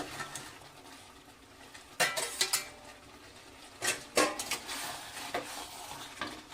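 A spoon scrapes and knocks against a pan as spice paste is cooked down for a prawn curry, irregular bursts of stirring over a quiet background hiss.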